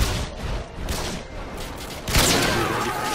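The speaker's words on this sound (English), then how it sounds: "Sentry gun." Automatic sentry gun firing in a first-person video game, a burst of busy gunfire with a louder, heavier blast rising near the end, close and fairly loud with no talk.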